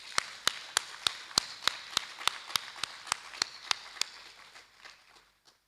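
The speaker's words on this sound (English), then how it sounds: "Let's clap again for her." Slow, evenly spaced claps at a research conference session, about a dozen sharp hits ringing out one by one before trailing off into quieter scattered taps, fairly faint in a large room.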